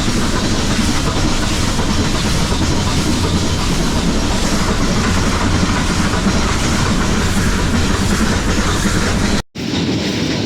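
The Ooty mountain toy train running between Coonoor and Ooty rumbles along steadily with a continuous loud clatter and hiss, broken by a brief cut near the end.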